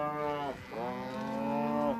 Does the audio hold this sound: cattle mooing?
yes